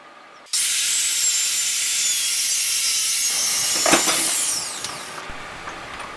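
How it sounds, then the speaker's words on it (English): A circular saw fitted with a Kreg rip cut guide rips a sheet of plywood lengthwise, a loud, steady whine at full speed that bites in abruptly and runs for several seconds before winding down. "Here I am ripping the 3 pieces that will become the dividing walls"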